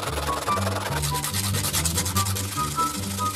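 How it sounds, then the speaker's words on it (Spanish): Plastic car window parts on a Volkswagen Beetle being sanded down by hand, a close, quiet, rhythmic rubbing in quick back-and-forth strokes. "Los estoy lijando para que sean más cortos."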